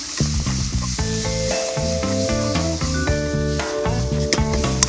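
Spicy pork stir-fries over high heat in a pan, a constant close sizzle and hiss with scraping stirs, under steady background music.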